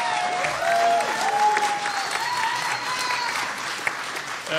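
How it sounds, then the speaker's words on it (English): Audience applause at a university journalism awards night, steady clapping from a roomful of people with a few whoops and voices mixed in. "I think everyone should give him a round of applause"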